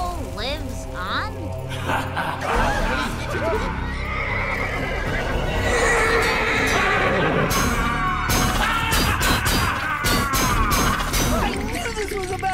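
A cartoon horse neighs and whinnies with a spooky ghost-story scene around it, loud and repeated over busy music, crashing effects and clip-clopping hooves, while characters talk excitedly throughout.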